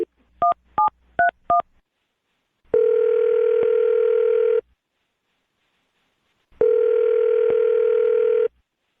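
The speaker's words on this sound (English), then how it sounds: "I'm going to dial his phone number right now." Telephone keypad tones beep in a quick series of five dialing blips, then two long steady ringback tones sound with a silent pause between them, clear and close.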